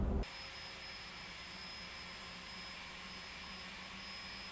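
Boeing 747-400 jet engines in the X-Plane flight simulator, a steady whining hum with a high tonal whistle, constant and even after a brief louder burst at the very start.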